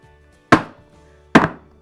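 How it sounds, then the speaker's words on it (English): Two sharp, loud bangs of cake pans dropped onto a kitchen counter to knock out air bubbles, spaced under a second apart, each with a short ringing decay and near-silence between. "So just bang your pans on your surface and help those air bubbles get out."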